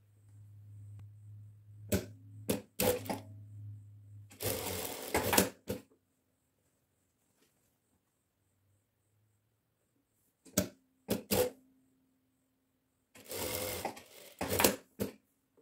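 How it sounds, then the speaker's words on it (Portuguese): Straight-stitch sewing machine running a seam on a chemise dress, in several short rapid bursts of stitching separated by quiet pauses, with a low steady hum at the start. "Eu vou fechar primeiramente aqui na máquina reta"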